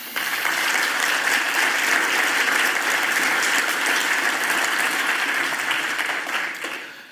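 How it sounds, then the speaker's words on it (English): A crowd at a panel discussion on European security gives a dense, sustained round of applause that stays loud throughout and tapers off at the very end. "would you please give a round of applause to our panel?"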